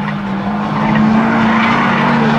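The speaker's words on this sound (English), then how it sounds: "Tozier battles back on the outside" Class B stock cars roar through a spectator drag race at Oxford, with a loud, sustained engine drone holding steady across the run, close and continuous.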